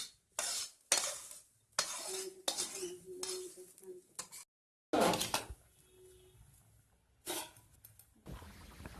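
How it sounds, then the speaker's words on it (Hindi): Roasted rice tipped into a pot of ghee and sugar for Bengali sweet yellow pulao, heard as repeated bursts of grainy pouring and scraping with clinks of a metal spoon against the pot, close and fairly loud, with pauses between pours. "अब भुने हुए सारे चावल को धीरे धीरे से इसमें डाल दीजिए।"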